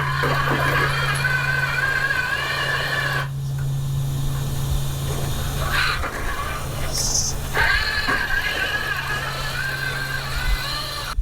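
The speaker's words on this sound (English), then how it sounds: "That motor is kind of glitchy" The motor of a 1/10 scale custom RC crawler runs glitchily. A steady low tone cuts off partway, and high whines stutter on and off in uneven bursts.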